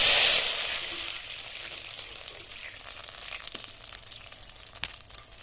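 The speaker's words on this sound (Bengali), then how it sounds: "জিরেটা ভাজা হয়ে গেলে আমি জল ঢেলে দেবো।" Water is poured into hot oil with fried black cumin and dried red chilli, setting off a loud hissing sizzle that slowly fades into softer crackling and bubbling, with a couple of sharp clicks, close up.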